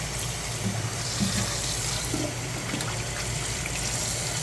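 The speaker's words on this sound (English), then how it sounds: "Bring it over to the sink. Run some cold water in it." Steady, continuous rush of tap water pouring into a sink, close and even throughout with no talking.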